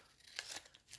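A small piece being cut off, heard as a couple of quiet, crisp snips close by. The sound is faint and brief, with no talking.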